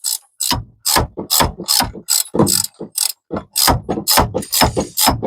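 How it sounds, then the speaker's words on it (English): Hand ratchet loosening a bolt on a 2006-2012 Honda 3.5L engine, giving loud, close clicking bursts in a steady back-and-forth rhythm of about a dozen strokes, with no talking. "So now we're back up to here to getting this bolt off."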